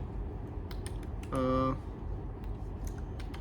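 Light, scattered taps on a computer keyboard in an awkward position, a few quiet keystrokes across a low room hum, broken by a brief tonal beep in the middle.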